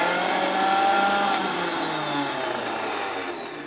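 An electric mixer grinder whirs steadily as it grinds ginger and garlic into a paste, a loud continuous motor drone holding close and even, then easing slightly toward the end, with no voices.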